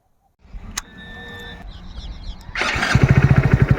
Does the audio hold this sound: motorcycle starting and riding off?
yes